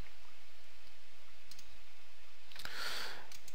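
Computer mouse clicks in a NetBeans setup dialog, a few small faint clicks over a low steady hum, followed by a brief brighter burst of noise near the end.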